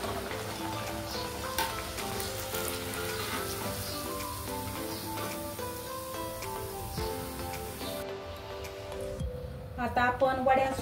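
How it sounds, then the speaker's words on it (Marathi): Potato vada, a fasting-style batata vada, frying in hot oil, a steady close sizzle and crackle running throughout, with someone talking over it and louder bubbling bursts near the end. "आता ह्यामध्ये आपण वडा टाकून तो गरम तेलात तळून घेऊया।"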